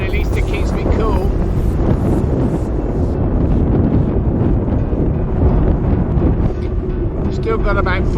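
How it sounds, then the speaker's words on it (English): Steady headwind roars across the microphone while cycle touring on a sunny afternoon in Western Australia's Golden Outback, a loud continuous rush that fills the whole stretch without letting up. "Headwind, but at least it keeps me cool."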